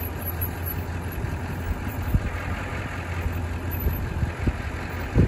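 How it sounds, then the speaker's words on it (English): A rollback tow truck's diesel engine idles steadily at low revs, a constant low rumble with a few brief clunks over it, alone without talk. "we're doing that at an idle to show you how nice it works without even revving the motor up"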